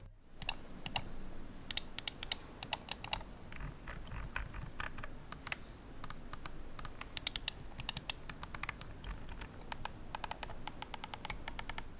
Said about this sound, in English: here we'll do a quick sound test of the switches on the Naga Pro